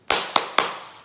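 The plastic flip-top cap of an oil bottle snaps open in three sharp, close clicks in quick succession, each followed by a brief ringing decay, with no talk.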